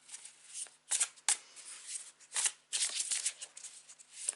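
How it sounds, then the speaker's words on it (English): Crisp riffling of a deck of tarot cards being shuffled close up, in several quick bursts with short pauses between, no talking. "whilst I'll shuffle my card"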